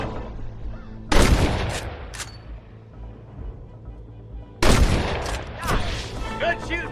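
Two sharp, loud gunshot bursts ring out in a Western open-world game, Red Dead Redemption, each with quick follow-up cracks and a trailing echo, separated by a few quieter seconds.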